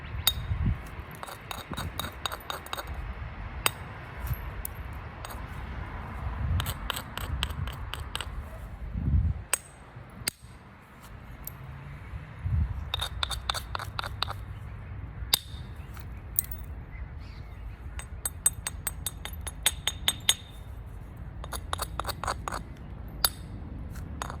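Flintknapping a Solutrean biface point: sharp, glassy stone clicks and pings come in clustered series of directed blows, with soft scraping and handling noise between them, close and without talk.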